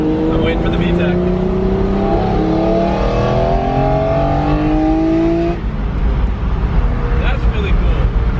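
A Honda-style car engine revving hard toward VTEC, its rising pitch climbing loudly from inside the cabin before easing off, with people talking over it.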